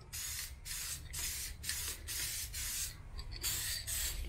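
Paint spray gun with a clogged spray tip hisses in steady bursts, about eight spurts with short gaps between, close and loud, during assembly work on a Land Cruiser FZJ80.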